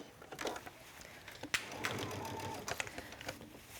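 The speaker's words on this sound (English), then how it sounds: "And I'm going to stitch this all the way around," Domestic sewing machine stitching around a garment's lining while redesigning a vintage ready-to-wear piece, a steady mechanical whir with small clicks and a sharp knock partway, fairly quiet and close with no talking.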